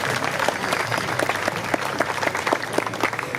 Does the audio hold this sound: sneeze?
no